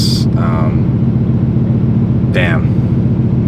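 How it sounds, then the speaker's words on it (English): Audi R8 with a VF supercharger, Valvetronic exhaust and high-flow cats drives along, its engine a steady loud rumble throughout, with brief voices over it. "Sounds so good. It's got the Valvetronic exhaust, obviously VF supercharger, very high flow cats."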